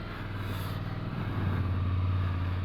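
A Ducati Scrambler Desert Sled motorcycle fitted with a Termignoni exhaust rumbles with a deep, steady engine drone that grows slightly louder partway through, heard alone without talk.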